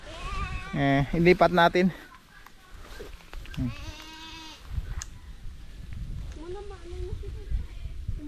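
Goats bleating on a farm, loud nasal harmonic calls in a quick cluster near the start, then a quieter bleat later, with someone talking and outdoor background noise around them.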